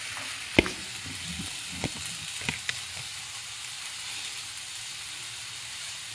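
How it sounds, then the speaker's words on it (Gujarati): Food fries in a pan at a low, steady hiss, with a few sharp clinks or stirs near the start and no voices. "કાચા પાકા ફ્રાય થાય ત્યાં સુધી જ આને ફ્રાય કરવાના છે."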